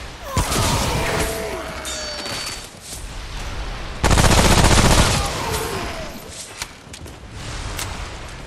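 Gunfire rattles in the game Remnant: From the Ashes, with bursts of rapid shots and heavy booming blasts over chaotic combat noise, and a voice speaks partway through.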